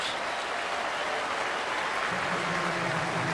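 Baseball stadium crowd at a Marlins vs Tigers game applauds in a sustained, dense wash of clapping and cheering, steady and loud throughout.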